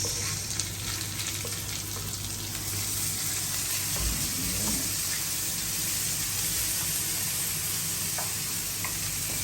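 Garlic and onion sizzle steadily in hot oil for Mongolian beef salpicao, a continuous close frying hiss with a few faint stirring scrapes and no talking.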